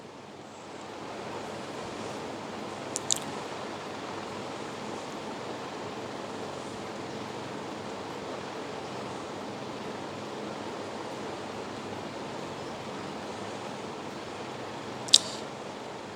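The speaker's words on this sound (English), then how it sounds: "I will fry them till they are translucent and the edges start caramelizing" Thinly sliced onions fry in a pot as a steady, even sizzle that runs throughout, with no talking and only a couple of brief clicks.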